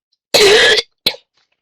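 A woman gives one strong, close cough followed by a shorter second cough, both loud and alone against silence.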